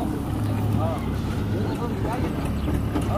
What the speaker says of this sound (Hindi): जितना भी गेहूं के पेड़ से गेहूं निकला था इस कंबाइन मशीन द्वारा